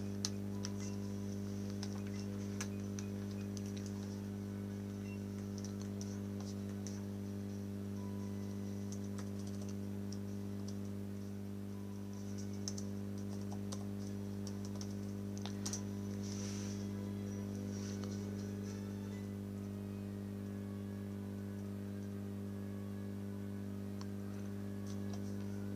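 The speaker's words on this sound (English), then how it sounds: "I was just typing something up." Computer keyboard typing beneath a steady, loud electrical hum: soft, scattered key clicks in irregular bursts across nearly half a minute, fairly faint and close, with no voices.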